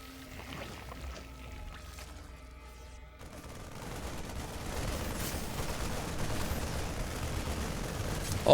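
Units trading fire in a StarCraft battle, a video game: faint scattered shots at first, then denser rattling gunfire and explosions swelling to a busy, continuous clamor.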